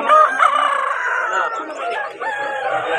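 A rooster crows loudly and close at a poultry market in Vijayawada, one drawn-out crow filling the moment with faint background murmur.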